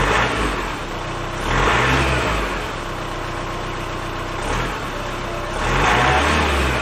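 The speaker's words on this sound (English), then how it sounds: "give it a rev" A car engine revs repeatedly while wiring in a 50A REDARC DC-DC charger, with three strong swells rising over a steady idle. The engine is close and loud throughout, and no one speaks.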